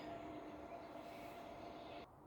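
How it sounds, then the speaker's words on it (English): A train rumbles past outside, a faint, distant steady roar with a low hum that cuts off near the end. "oh, sorry, it's a train."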